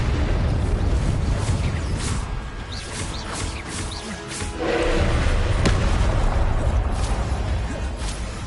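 Confringo and Incendio spell blasts in the video game Hogwarts Legacy go off as repeated thuds, booms and sharp pops over a dense, continuous rumble of game noise.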